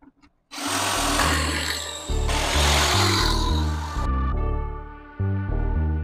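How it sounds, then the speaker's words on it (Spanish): A drill boring holes in melamine board for a screwed joint, with loud, steady whirring that rises and falls through several bursts, close up with no talking. "Y hacemos unas perforaciones"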